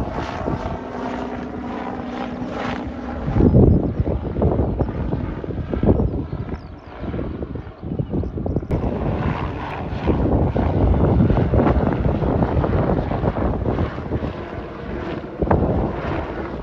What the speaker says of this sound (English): Helicopters just gone past there.